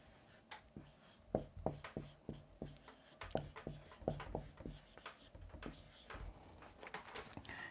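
A pen writes out the C major scale on paper, producing a run of quiet, close scratches and taps in an uneven rhythm.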